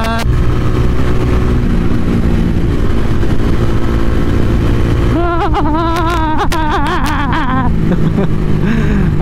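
A TVS Ronin 225 motorcycle, 2023 model, rides through East Java with a steady engine drone that climbs in pitch as it accelerates, then sharper revving rises and falls near the end.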